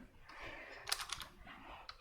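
Soft typing on a computer keyboard while a program is written, with quiet scattered key clicks and a small flurry of taps in a quiet room.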